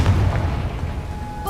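The Confringo explosive spell in the Hogwarts Legacy video game goes off as a single loud, deep boom that rolls on for about a second.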